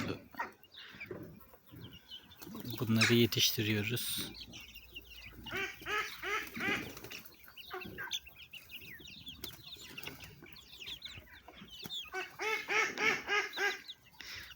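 Young poultry on a farm in Adapazarı Evrenköy, chicks, ducklings, goslings and young chickens, peep and chirp in rapid high bursts, loudest early and again near the end, with someone speaking briefly between the calls.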